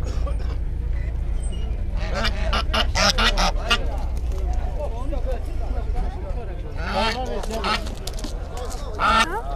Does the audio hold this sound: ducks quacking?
yes